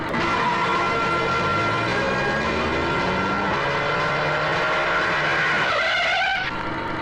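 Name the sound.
car driving into a no-entry road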